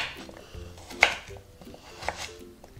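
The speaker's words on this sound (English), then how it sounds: "cut them in half lengthwise, cut those in half lengthwise, and then just make nice cube-sized pieces" A knife chops peeled potatoes into cube-sized pieces on a board, a few distinct knocks spaced out, the sharpest near the middle, close and clear with no one talking.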